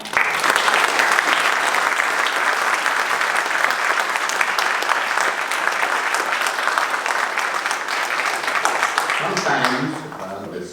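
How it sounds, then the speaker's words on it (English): A full room applauds Anupam Kher at a talk on Kashmiri Hindus in the film industry. The clapping is dense, loud and sustained for about ten seconds, then thins out at the end. "Can we have a round of applause?"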